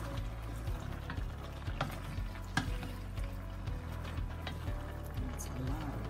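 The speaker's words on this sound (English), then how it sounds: "Now mix them all together." Vegetables and pork for Filipino pinakbet being stirred and mixed in a pan, a soft continuous sizzle broken by scraping clacks of a utensil against the pan, with faint talk underneath.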